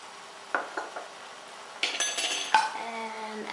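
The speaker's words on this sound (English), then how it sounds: "And as you cook it, you have to stir." A spoon stirring coconut milk in a cooking pot, giving a few soft, scattered clinks of metal against the pot with quiet pauses between them.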